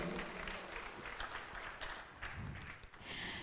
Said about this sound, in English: A huge round of applause to him.